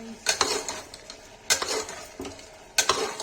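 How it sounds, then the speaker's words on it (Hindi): A utensil scrapes and clinks against a pan in three quick stirring bursts over a soft, steady sizzle of red chili and turmeric frying in oil. "गाइस इसको अच्छे से चला देंगे, भून देंगे।"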